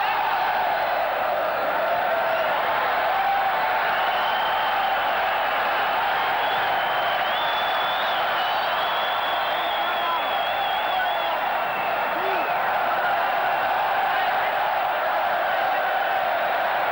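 Spanish home crowd at a 1996 World Futsal Championship semi-final against Ukraine, a steady roar of cheering and shouting filling the arena throughout, with a few whistles rising above the din.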